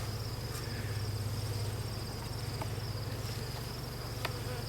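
Honeybees buzz steadily around a hive during an autumn colony inspection, a dense, continuous drone close by with no talking.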